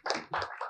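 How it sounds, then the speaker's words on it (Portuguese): Brief burst of audience applause greeting two writers as they walk onto a stage at a literary talk event, a short cluster of clapping in two quick swells. "O público aplaude a entrada dos escritores."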